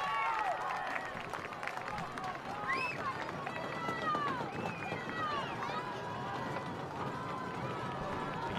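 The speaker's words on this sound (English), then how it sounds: "Fans starting to stomp their feet in the middle stands here on the near side" Soccer fans in the stands at a Santa Clara versus Portland match stomping their feet, a continuous rumbling crowd din with cheers and whistles rising over it, steady and loud throughout.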